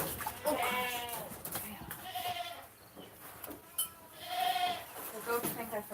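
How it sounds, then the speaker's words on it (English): Goats bleat repeatedly on a farm during chores, several wavering calls near and loud, overlapping with a person talking. "The goats think I forgot about them."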